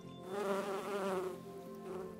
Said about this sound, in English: The bees buzzed.